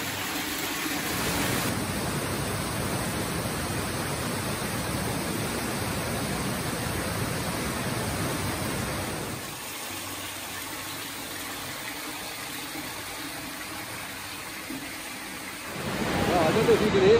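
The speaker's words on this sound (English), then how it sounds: "quite a spectacular waterfall here. Really is quite loud, and we're right at the depths of the caves now, and way underground" An underground waterfall deep in a cave near Zlatibor, Serbia, roars as a loud continuous wash of noise throughout, easing slightly partway through before swelling again at the end.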